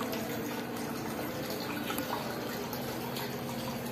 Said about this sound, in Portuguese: E água corrente aqui, muito bacana.